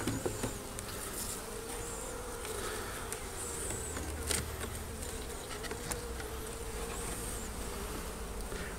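Bees buzz steadily and densely throughout during a hive removal, a continuous close insect drone with occasional louder passes near the listener.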